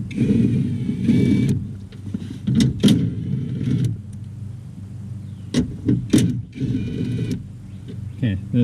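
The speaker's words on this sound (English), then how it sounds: "So let's just start removing bolts and see what happens." Bolts being removed from the window motor and regulator inside the door of a 2011 Nissan Versa, with bursts of ratcheting and metallic clicks and clunks close by, separated by quieter pauses.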